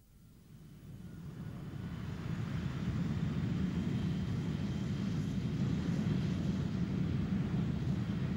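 Lockheed F-104 Starfighter jet on its first official flight rollout in 1954, a steady low roar of engine noise that swells over the first two seconds and then holds loud and even with no talk.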